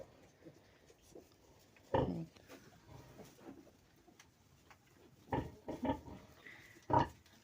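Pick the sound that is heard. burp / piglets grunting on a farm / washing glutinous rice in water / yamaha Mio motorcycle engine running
piglets grunting on a farm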